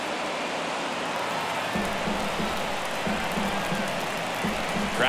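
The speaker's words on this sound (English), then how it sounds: "Crowd locked in right now." Crowd noise fills a baseball stadium in MLB The Show 23 during a ninth-inning game, a steady dense roar with faint rhythmic murmurs, heard alone.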